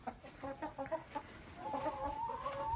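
Chickens cluck in short broken bursts, then one draws out a longer warbling call, fairly close with quiet surroundings.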